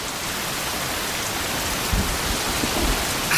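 A sprinkler sprays water to imitate rain outdoors in the wettest part of Britain, a steady dense hiss of drops falling on a surface, close and continuous, with a few faint thumps and no talk.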